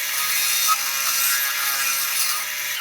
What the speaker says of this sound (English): I'm just going to give the inside of it a little bit of a gentle scrape